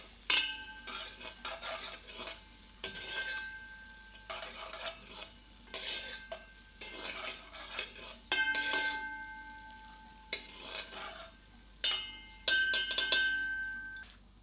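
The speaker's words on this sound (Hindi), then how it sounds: "एक बार अच्छी तरह करछी चलाते हैं।" Ladle stirring cabbage and potato sabzi with tomatoes in a pan over low heat, repeated scraping and clinking strokes in uneven bursts, close and clear, with a faint sizzle underneath.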